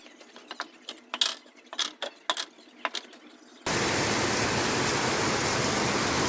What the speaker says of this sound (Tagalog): Ay, inabutan na naman ng ulan